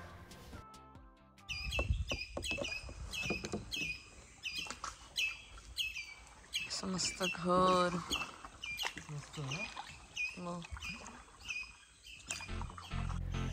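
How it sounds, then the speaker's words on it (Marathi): Assorted birds chirp, tweet and squawk along a Konkan creek during a kayaking trip, with repeated close calls through the stretch and people talking over them. "वेगवेगळ्या पक्ष्यांचे आवाज ऐकत आम्ही बराच वेळ कायाकिंग करत होतो"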